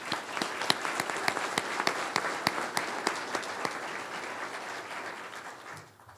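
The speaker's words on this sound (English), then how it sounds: "Let's give Glenn a round of applause" An audience at a utility cooperative's annual awards meeting claps for an honoree, a steady wash of applause with a few loud individual claps standing out, fading away at the end.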